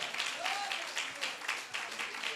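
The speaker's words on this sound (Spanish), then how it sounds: "debemos de dar ese aplauso porque es para su gloria y para su honra" Applause from a church congregation during a Spanish-language sermon, a steady wash of clapping over about two seconds with a faint tone rising briefly underneath and no clear talk on top.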